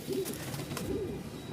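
Pairs of helmet and mukhi pigeons at a sale in Mirpur-1, Dhaka, let out two soft, low, rolling coos close by over a faint background murmur.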